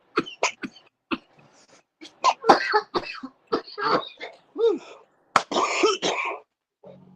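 Repeated coughing and throat clearing in uneven bursts, close and fairly loud, with short pauses between fits.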